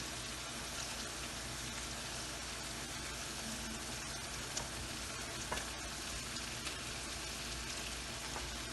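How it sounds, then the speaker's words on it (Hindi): Kebabs frying in oil in a karahi on medium heat, a continuous faint sizzle and crackle with small pops throughout. "अब हम इसको कर देंगे मीडियम पे और इसमें डालेंगे कबाब।"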